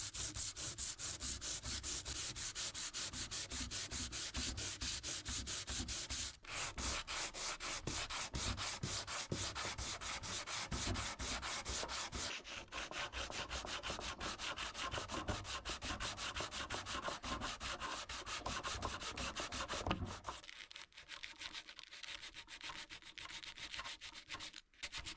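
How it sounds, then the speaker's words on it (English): 120 grit sandpaper rubbed over furniture wax on a 1950s mid-century modern dresser, a rapid rhythmic back-and-forth rasp that continues steadily and close, easing off near the end. "I'm now going to sand the furniture wax down with 120 grit sandpaper."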